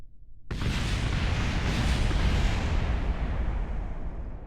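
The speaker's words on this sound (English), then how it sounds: "there will be explosions" A sudden massive explosion in a space-flight video game bursts in after a half-second of quiet, followed by a sustained roaring rumble that slowly tapers off.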